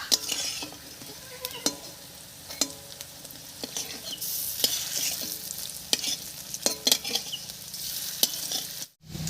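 Bottle gourd peel fritters frying in oil make a steady, close sizzle. Sharp clinks and scrapes from a utensil lifting them out punctuate it, ending in a brief dropout.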